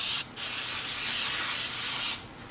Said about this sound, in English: we are ready to spray our muffin tin